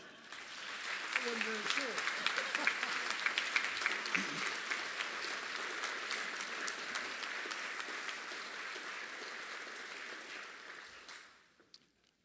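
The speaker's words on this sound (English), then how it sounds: "Please raise your hands and clap for my general." A crowd at a veterans' salute event applauds a major general, loud sustained clapping from many people that holds steady for about ten seconds before fading out, with a brief spoken remark early on.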